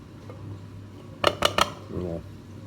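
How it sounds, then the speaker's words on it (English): A spoon clinks sharply against a bowl three times in quick succession while wholemeal flour and water are stirred into a wet sourdough starter, over a low steady background hum. "And we stir it together. Just until it forms a nice little wet mess."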